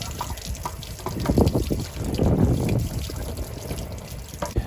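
Dirty water draining from an RV water heater tank outdoors, a close gushing, trickling flow that swells in the middle, with wind noise underneath.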